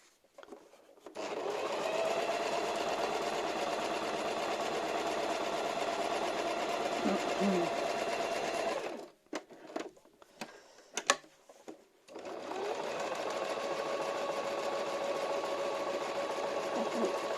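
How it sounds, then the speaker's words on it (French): A sewing machine stitches the end of a seam in two long bursts of steady, fast mechanical whirring, separated by a short pause filled with light clicks and handling, quiet and close. "On repasse sur la fin de la couture de l'ouverture."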